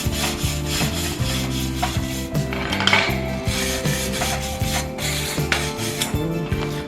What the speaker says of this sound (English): Clean that up with a wire brush.